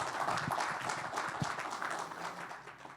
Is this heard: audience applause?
yes